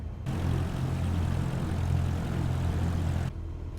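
Propeller aircraft engine droning steadily while taxiing in Microsoft Flight Simulator, a continuous low hum with no talk.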